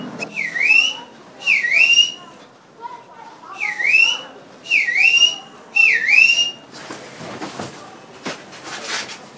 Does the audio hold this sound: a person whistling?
yes